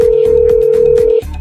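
A telephone rings in an animated scene with a steady electronic tone over a repeating pulse, loud and close, then cuts off just before the end.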